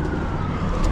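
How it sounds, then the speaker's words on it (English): A steady wailing ambulance siren over road noise on a Los Angeles street, fairly close and continuous, with no voices. "No, it's an ambulance."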